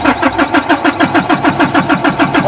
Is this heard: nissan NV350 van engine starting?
yes